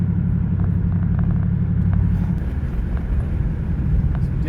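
A car fitted with a BTR transmission drives along with a steady engine rumble, a firm shift changing the tone midway, and the drone carrying on loud and close.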